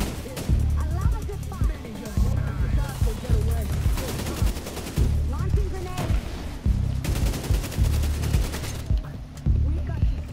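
Gunfire in the video game Tom Clancy's The Division 2: rapid automatic bursts repeat over several seconds, loud and dense, with short breaks between volleys.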